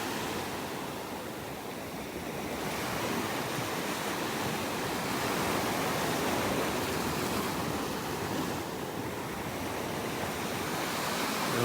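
Ocean waves wash onto a beach in North Naples, Florida, a steady broad surf roar with gentle swells in loudness, no voices.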